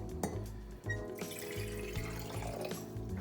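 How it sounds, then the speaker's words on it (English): Water pours into a jezve for Turkish coffee in a kitchen, a steady faint splashing and trickling stream with a few small clinks of the metal pot, no one talking. "go ahead and pour that into your jezve"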